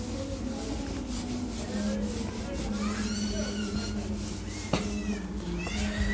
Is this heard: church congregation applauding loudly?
no